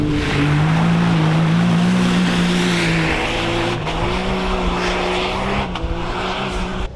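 A Yamaha YXZ 1000R buggy on a muddy off-road track drives with a loud, steady engine drone that shifts pitch as it revs, accompanied by broadband noise from tires and spraying mud, no voices.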